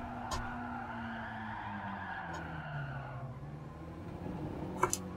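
A car oversteers and skids with a sustained tire squeal over a steady engine drone in the racing game Gran Turismo Sport, the squeal sliding in pitch before easing, with brief sharp clicks at the edges.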